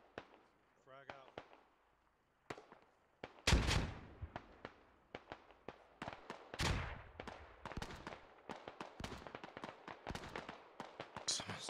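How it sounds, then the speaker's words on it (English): Rapid shotgun blasts in a SquadOps military shooter match, loud sharp bangs coming in quick irregular bursts for several seconds, with scattered distant gunfire and a few quieter pops before the first big blast. "Someone's going ham with a shotgun."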